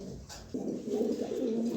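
A pair of large, light-coloured pigeons coo at a pigeon sale, with soft, rolling calls that grow fuller and steadier after the first half second and continue close by without talk.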